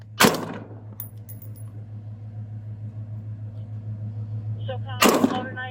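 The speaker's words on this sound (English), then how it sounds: "Shots fired, he's shooting." Two loud, sharp gunshot-like bangs during a police shootout, one at the start and one near the end, over a steady engine hum with faint metallic jingling between them.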